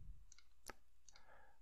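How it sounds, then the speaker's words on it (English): Computer mouse clicks at a desk, a few quiet, sharp clicks spaced irregularly, close but faint over low background hiss. "And so if I click around, it works."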